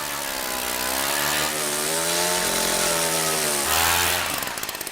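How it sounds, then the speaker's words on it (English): Loud motorized ice drill whining steadily under load as it bores through lake ice, its pitch shifting as it bores, then winding down at the end. "Once the drill penetrates the ice, the lake water shoots up to its normal level."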